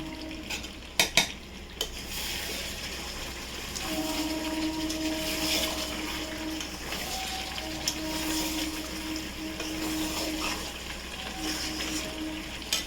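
Spices frying in a pan while a spoon stirs them, giving a continuous close sizzle with scraping strokes and a few sharp metallic knocks near the start, with no talking.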